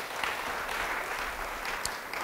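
Church congregation applauding together in a large hall, a dense, steady wash of clapping that holds evenly throughout.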